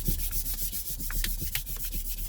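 An 800-grit abrasive pad rubs over a leather BMW steering wheel in quick back-and-forth strokes, a soft, steady scratchy friction close up with no talking.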